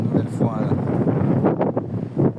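Outdoor wind buffets the microphone in heavy, constant low rumbling gusts, loud and close, with a voice partly audible beneath the blustering.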